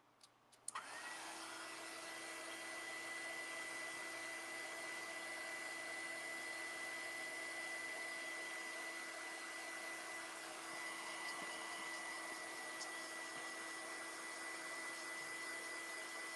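A handheld dryer blows to dry a DIY family keepsake. It clicks on and then holds a steady, loud, even whine and rush of air for about fifteen seconds with no talking.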